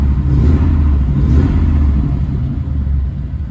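An old flathead car engine idles steadily with a deep, close rumble and a slight rise in revs, no voices over it.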